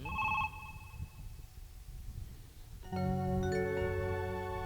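A telephone bell rings briefly at the start, then a brighter electronic ring with layered tones comes in near the end and holds steady.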